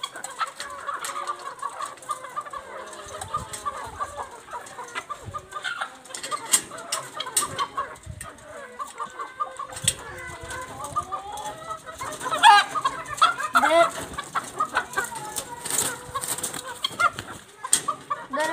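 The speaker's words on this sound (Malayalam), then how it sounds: "ഇതൊരു ഫാൻസി കോഴിയാണ്." Chickens cluck steadily among fancy and black (karinkozhi) hens and chicks kept at a small poultry setting, the bird calls busy and overlapping throughout, with a louder burst of calls near the middle and no talk.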